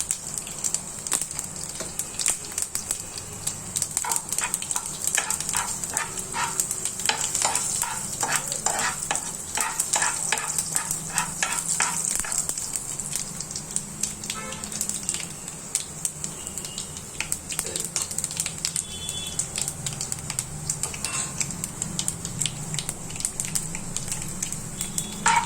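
Tempering seeds, curry leaves and asafoetida sizzling in hot oil for a broken wheat pongal, stirred with a utensil throughout, with a steady close crackle and bursts of rapid scraping, no talk.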